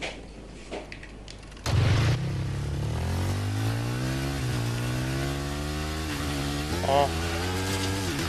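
A motorcycle engine in Battlefield 3 multiplayer starts with a sudden burst, then revs and idles in a loud steady drone with rising and falling pitch, close up, with brief voices before it.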